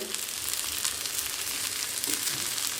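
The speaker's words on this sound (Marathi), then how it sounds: "आपण पुन्हा थोडंसं तेल टाकूया आणि या खालच्या बाजून पण मस्त आपण हे तळून घेणार आहोत" Pre-cooked elephant foot yam (suran) slices shallow fry in oil in a pan with a steady, dense sizzle and crackle that stays even throughout, close and with no talking.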